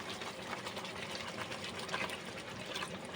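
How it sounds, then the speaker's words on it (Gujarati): About half a cup of water is poured into cooked masala for an Afghani-style egg curry, a soft, faint, continuous trickle and splash with no talking. "હવે આપણે અંદર એડ કરીશું થોડુંક પાણી"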